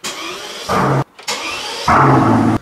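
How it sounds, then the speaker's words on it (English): A Mercedes-Benz S65 AMG's starter cranks twice, each attempt whirring briefly before the engine catches and roars loudly, close up. "my favorite part of just starting this car up in general is the starter sound, the ignition sound"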